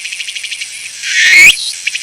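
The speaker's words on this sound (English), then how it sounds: "This is a cicada." A typical Japanese cicada sings in a rhythmic pulsing buzz, with a brief louder rising whine in the middle and the pulsing resuming after it. Loud and close, with no voices.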